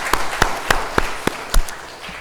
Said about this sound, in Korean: 우리 하나님께 박수 한번 치겠습니다.